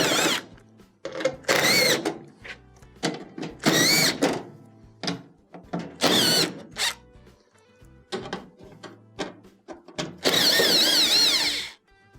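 A power drill whirs in repeated short bursts as quarter-inch screws are backed out of the rear panel of a GE dryer, each burst close and loud with quiet gaps between, ending in one longer run.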